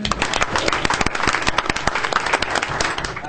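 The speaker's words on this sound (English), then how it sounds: "you can give him a round of applause" Applause from a group at a college governing board meeting for a newly elected adjunct faculty association president: steady, fairly close clapping with a few sharp individual claps, no talk.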